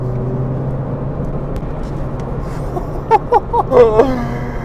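Renault Clio 197/200 RS Cup hot hatch engine after dropping a gear: a steady drone from the cabin, then several short, sharp revving surges close together near the end.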